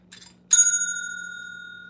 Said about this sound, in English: Found the bell. It's ready to go.